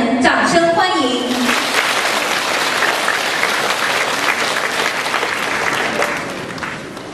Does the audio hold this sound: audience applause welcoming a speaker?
yes